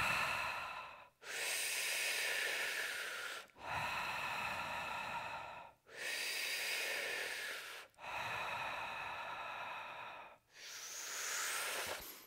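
Deep, slow breaths during a guided meditation breathing exercise, five long airy inhale-exhale cycles with brief pauses between, close and steady.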